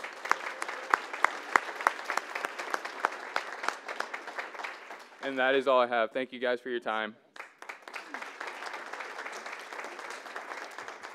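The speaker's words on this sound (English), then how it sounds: "if we can all give him a round of applause" An audience at a community college event breaks into applause, sustained crisp clapping from many hands that briefly drops beneath someone speaking, then swells back up and carries on to the end.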